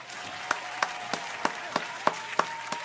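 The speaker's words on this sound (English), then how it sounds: "Round of applause to Gene for that" Applause for Gene on a talk show comes as distinct, evenly spaced claps, about three per second and fairly close, over a low room hum rather than a dense crowd roar.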